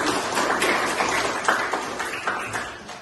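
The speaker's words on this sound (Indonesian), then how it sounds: "Berikan tepuk tangan untuk kalian." Students in a classroom clap together in a short burst of applause, a moderately loud patter of many hands that fades slightly toward the end.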